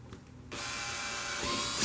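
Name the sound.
power drill drilling hole for speaker pod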